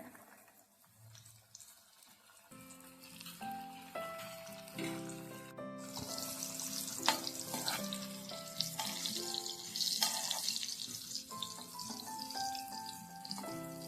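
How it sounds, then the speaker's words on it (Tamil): Chicken popcorn pieces fry in oil over a medium flame, a soft crackle at first that grows into a fuller, bubbling sizzle, with faint tonal hums running underneath. "சிக்கனை பொறிச்சு எடுத்துக்கலாம் மீடியம் ஃப்ளேமில் வச்சுக்கோங்க"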